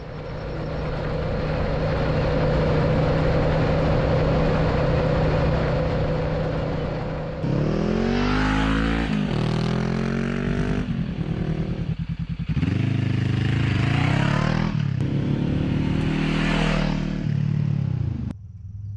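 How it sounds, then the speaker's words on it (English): Kawasaki NX500 motorcycle with muffler wool stuffed into its exhaust, heard up close while riding: a steady droning idle gives way to loud rising revs through several gear changes, engine pitch sweeping up and dropping between shifts, no talking. "what do I think of my exhaust modification with a little bit of muffler wool inserted on the inside?"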